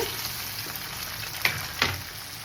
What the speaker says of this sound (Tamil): இந்த தக்காளியும் பார்த்தீங்கன்னா நல்லா வதங்கணுங்க